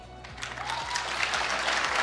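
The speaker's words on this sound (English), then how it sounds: "Can we give Yeni AI another round of applause, please?" A conference audience at a national ICT summit applauds, a steady wash of many hands clapping that swells slightly, with no talk over it.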